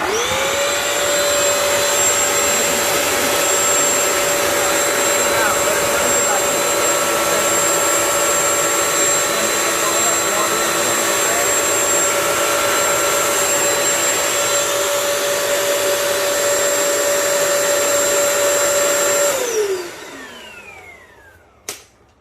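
A Bissell Crosswave floor cleaner runs with a steady, loud motor whine and airflow roar for about nineteen seconds, then winds down and stops, followed by a faint click.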